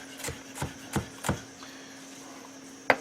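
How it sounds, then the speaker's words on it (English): A knife chops through an onion on a cutting board, four evenly spaced, crisp cuts followed by a pause and one sharper final knock, close and alone over faint background hum. "So we'll do an angle cut into the onion horizontally."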